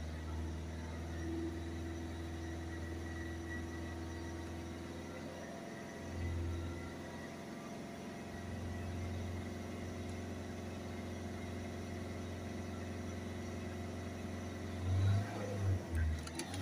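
A Volvo C30 1.6 HDi diesel with a blocked particle filter runs steadily at around 3000 RPM, a loud continuous engine drone with a brief dip and rise midway and a few rev swells near the end; no speech.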